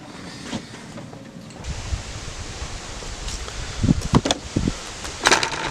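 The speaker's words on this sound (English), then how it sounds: "It's pretty windy" Steady wind noise buffeting outdoors, with occasional rustling and a few sharp clicks and knocks toward the end, while a chimney and fireplace insert are cleaned outside.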